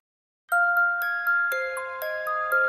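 Notification bell sound effect: a sequence of bright, clear chime dings in quick succession, ringing alone after a moment of silence.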